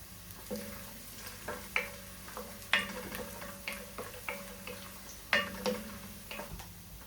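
Peanuts and garlic frying together in a pan for lemon rice, a soft low sizzle with repeated light taps and scrapes of a stirring spoon at an uneven rhythm, close and fairly quiet.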